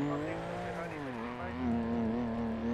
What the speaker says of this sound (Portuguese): Tem que abaixar o volume desse carro